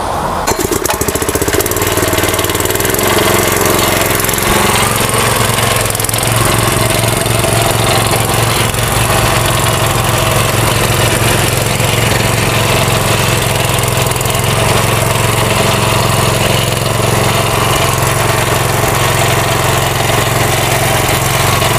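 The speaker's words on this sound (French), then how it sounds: "Voilà le moteur qui est en marche." The engine of a Cameroonian-built motor tiller runs continuously close by, a loud rough mechanical drone with rattling vibration that holds steady throughout, with no voices.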